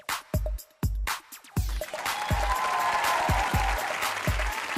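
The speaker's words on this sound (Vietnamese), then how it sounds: "Chị phải vỗ tay dữ vậy." Studio audience at a Vietnamese comedy dating show claps in repeated bursts, short loud rounds at first that merge into sustained applause for the rest of the stretch, with no talk over it.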